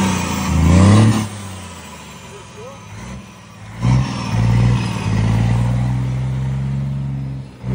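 A Mercedes Actros truck with an installed diffuser and dual exhaust tips revs loudly up close, its deep engine roar rising and falling in several surges while someone talks over it.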